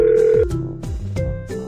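Cartoon phone ringing in a baby panda child-safety game, a loud synthetic ringtone of bright tonal notes stepping up and down in quick succession, with no talking.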